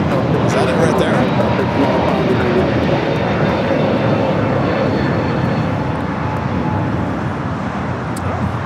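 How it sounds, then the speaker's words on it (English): Alaska Airlines airliner from Seattle taxiing past at LAX, its jet engine roar a steady, loud broadband rumble throughout with a faint whine on top, while people talk over it. "just landed and taxied right by you, Alaska from Seattle"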